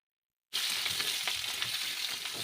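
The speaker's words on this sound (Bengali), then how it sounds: "আলুগুলো ভালো করে নেড়ে চেড়ে এগুলোকে ভেজে নিতে" Small potatoes fried in oil: after a short silence, a sudden loud, steady sizzle sets in with faint scraping from stirring, close by and continuous to the end.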